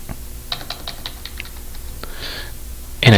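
Someone types on a computer keyboard, entering a tenant company name into a property form: a quick, light run of close clicks with short pauses, then a louder burst of keystrokes at the end.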